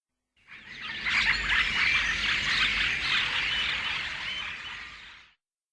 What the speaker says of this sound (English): You can see birds all around you.